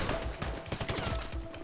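Shotgun fire in the GTA V Online video game comes as a quick cluster of sharp blasts over a short burst of game noise, fairly loud and with no speech.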